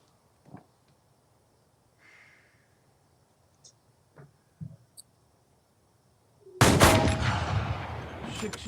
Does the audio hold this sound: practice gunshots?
yes